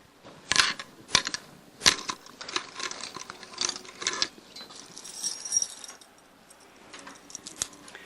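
A bunch of keys is rummaged through while hunting for a small gold key, producing close metallic jangles and sharp clinks in irregular bursts, with no talking.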